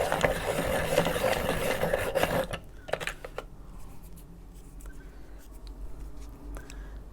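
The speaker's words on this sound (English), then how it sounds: "Get a bit of sharpener on that." A white Polychromos colored pencil is turned in a sharpener at close range with a dry, gritty grinding of wood and lead for a couple of seconds, followed by a few faint clicks and rustles.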